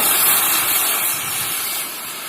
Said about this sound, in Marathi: आपण पाणी टाकू कढईत आधी. कढईत पाणी टाकायचं आपल्याला.